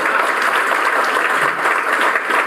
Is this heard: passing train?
no